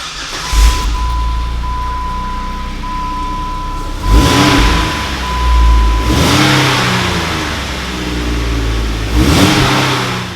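A Jeep Wrangler's Borla 2.5-inch dual-exit cat-back exhaust revs up in three or four sharp bursts, deep and throaty, settling back to a rumbling idle between each one.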